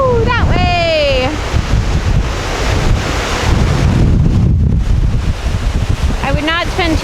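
Strong, roaring wind buffets the microphone on the Lake Ontario shoreline during a heavy snowstorm, with surf churning beneath it; a constant loud rush fills the scene while people talk briefly at the start and end.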